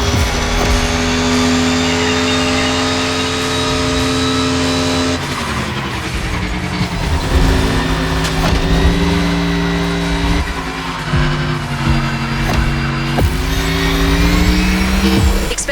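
Race car engines roar in The Crew Motorfest video game, a loud continuous high whine that shifts pitch through gear changes, with tire skids and revving surges along an island race.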